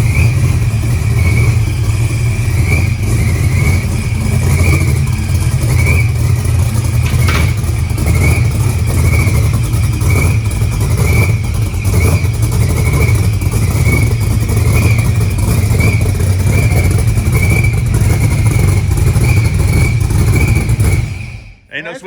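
A procharged LS-swapped 1955 Chevy Nova rumbles loudly and steadily from inside the cabin, a deep droning engine note sustained throughout before cutting off abruptly at the end.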